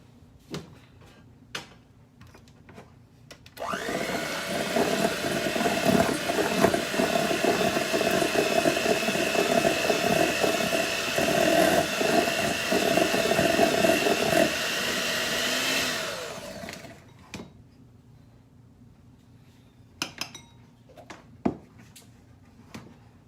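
An electric mixer whirs steadily through gingerbread dough with egg added, a loud continuous motor drone lasting about thirteen seconds and then stopping, with faint clicks and knocks before and after.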